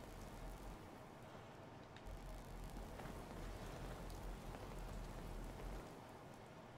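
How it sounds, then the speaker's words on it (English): Steady rainfall in Fallout 4 with the Sim Settlements 2 mod, a soft continuous hiss of drops pattering on surfaces with a low rumble beneath, faint and unbroken throughout. "Hope this rain lets up soon."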